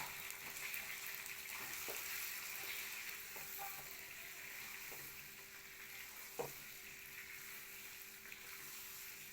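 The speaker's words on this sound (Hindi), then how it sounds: "अब प्याज के अंदर चिकन को अच्छे से फ्राई कर लेंगे।" Chicken pieces frying in a pan with light-browned onions and whole spices, a steady soft sizzle throughout with occasional stirring clicks and a small clatter near the end.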